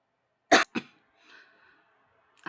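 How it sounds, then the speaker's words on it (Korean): A person coughs during a Korean-language lecture on Android app development, two sharp close coughs in quick succession, then a faint breathy sound and a third cough starting at the end. "제가 잠깐 기침이 나와서 잠시 중단했다가 다시 시작했습니다."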